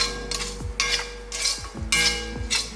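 Rice with a pinch of salt being stirred in a metal pot, a spoon scraping and clinking against the sides in a run of rhythmic strokes, close and fairly quiet.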